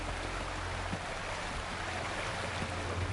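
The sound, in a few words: waterfall rushing water in video game Wuthering Waves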